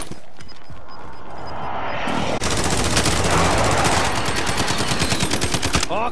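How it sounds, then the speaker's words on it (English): Rapid automatic gunfire crackles loud and close in the Call of Duty Cold War battle royale on Rebirth Island, starting with scattered shots, then a dense sustained burst of overlapping rounds with sharp metallic clatter. "Who's shooting at us?"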